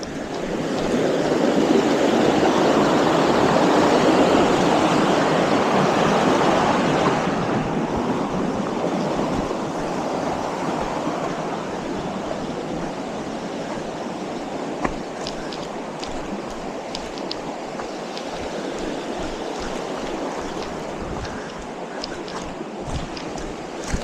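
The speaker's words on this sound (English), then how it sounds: "Crossing back over Rollins Creek." Steady rush of Rollins Creek's flowing water on the Superior Hiking Trail, loudest for the first few seconds, then settling into a softer, continuous babble with some wind buffeting.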